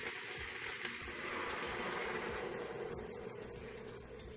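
Water is added to a cooking pot of cabbage, carrots, potatoes and squash with onions and spices, making a continuous close rushing, splashing pour that runs steadily throughout.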